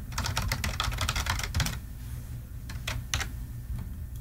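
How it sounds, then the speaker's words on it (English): Typing on a computer keyboard: fast runs of close, crisp key clicks, a short pause, then a few more scattered keystrokes. "and then just start typing."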